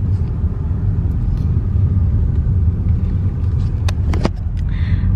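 A car driving along a road in Mexico gives a loud, steady low rumble of engine and tyres from inside the vehicle. A few faint higher ticks and clicks come through near the end.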